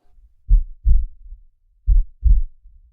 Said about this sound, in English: Cue the heartbeat.